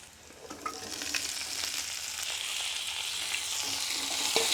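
Mixed vegetables frying over low heat in a pan with onion and ginger, a steady soft sizzle that grows slightly louder, with occasional light scrapes of stirring.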